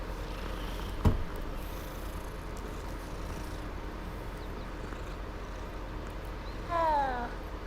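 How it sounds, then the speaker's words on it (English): A cat in the Hogwarts Legacy video game purrs steadily and softly throughout, with a single sharp click early on and one short, falling meow near the end. "Hey, kitty cat."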